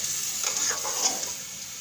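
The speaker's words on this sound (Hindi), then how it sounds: "हमें हिलाने की ज़रूरत है।" A spoon stirs fish curry (machli ka salan) frying in a pan at close range. The steady oil sizzle carries a few soft scraping strokes over a brief moment.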